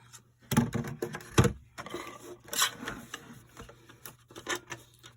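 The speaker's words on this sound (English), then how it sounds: "I'll just bring my little paper trimmer in." A small paper trimmer cutting handmade cardstock card bases at a stamping craft table, several sharp close clicks and slides of the blade in an irregular rhythm, with quieter handling noises between.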